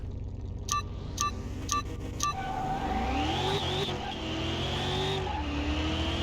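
A race car engine in Car Mechanic Simulator 2021 revs and climbs through the gears, a continuous loud drone rising and falling in pitch, with a few sharp clicks near the start and no talking over it.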